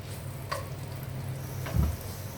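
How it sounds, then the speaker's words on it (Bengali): Low, even sizzle of onions frying in oil in a pan, with a light tap early on and a dull knock of stirring near the end. "একটা প্যানে পরিমাণ মতো তেল দিয়ে 1 কাপ পেঁয়াজ ছেড়ে দেব"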